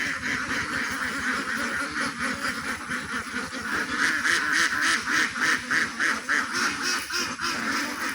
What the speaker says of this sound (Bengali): চলেন তাহলে আমরা ছেড়ে দিচ্ছি হাঁসগুলিকে